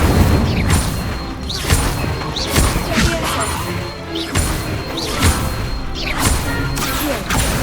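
Repeated fire spells cast in Hogwarts Legacy, a series of punchy bursting booms and crashes roughly every second, mixed with game effects and spoken voices.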